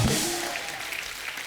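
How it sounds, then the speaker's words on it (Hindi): Studio audience applause on The Kapil Sharma Show comedy set, a dense wash of clapping that starts loud and tapers slightly over a second and a half, with a brief voice at the very start. "अनुपम सर के लिए जोरदार ताली हो जाए।"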